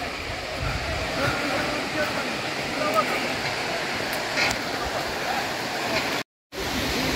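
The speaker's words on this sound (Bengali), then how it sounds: "শুধু ঝর্ণার শব্দ ছাড়া আর কোনো শব্দ শোনা যাচ্ছে না" Steady broadband roar of the Erfelek Tatlıca waterfall in Sinop, Turkey, continuous and fairly loud with a brief dropout near the end.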